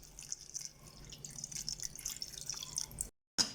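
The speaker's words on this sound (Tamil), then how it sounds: "இப்போ இதில் தேவையான அளவு நம்ம தண்ணி ஆட் பண்ணிக்கலாம்." Water trickles and drips into a pot of lentils and vegetables for baby food, a faint, close, irregular pouring with small splashes that briefly cuts off near the end.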